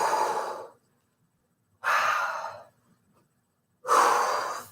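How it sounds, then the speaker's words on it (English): Three long, forceful exhalations during a workout exercise, each a breathy whoosh lasting under a second and spaced by silent pauses, close and alone. "Breathe it out."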